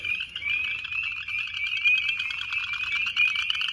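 Leopard frogs croak in a dense, continuous chorus at a vernal pool in winter, many overlapping calls forming a steady, fairly loud pulsing trill with no voices.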